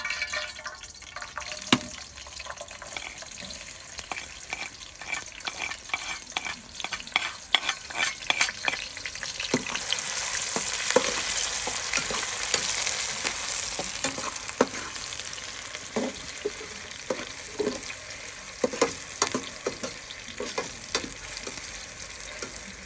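Onions fry in hot oil in a pan while being stirred, a steady sizzle broken by repeated sharp scrapes and clacks of the utensil, close and fairly loud, with no talking.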